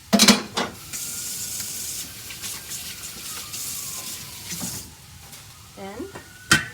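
Ramen noodles stirred and loosened in a pan on the stove, with a soft continuous sizzle of frying under brief scraping and clinking stir strokes near the start and end, close and moderately quiet.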